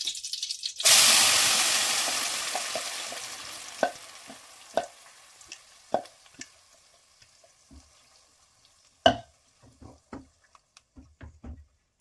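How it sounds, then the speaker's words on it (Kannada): Ground masala hits hot frying oil for fish pulimunchi with a loud, sudden sizzle that slowly fades. A string of sharp spoon taps and scrapes against the pan follows as it is stirred in. "ನಾನಿವಾಗ ಇದಕ್ಕೆ ಮಿಕ್ಸಿ ಮಾಡ್ಕೊಂಡಿದ್ನಲ್ಲ ಆ ಮಸಾಲೆ ಎಲ್ಲ ಹಾಕ್ತೀನಿ."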